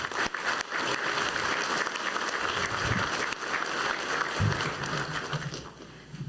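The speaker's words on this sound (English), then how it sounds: "Let's give them a round of applause." A crowd at the St. Michael Indian School Class of 2024 commencement applauds the graduating class, sustained clapping with some low rumble and movement underneath, easing slightly toward the end.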